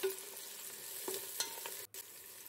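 Vegetables and spring onion sautéed on high flame for chilly chicken, a dense steady sizzle with a few utensil scrapes and clinks, close and even, with a brief drop near the end.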